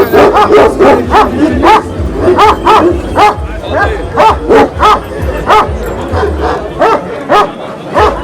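A Kangal dog barks repeatedly in a steady series of sharp, loud barks at a breed standard show with many dogs, with voices talking in the background throughout.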